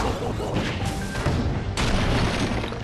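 A cannon fires in the Skylanders Spyro's Adventure video game, a dense booming blast with crashing noise that swells in two broad surges over a busy game soundscape.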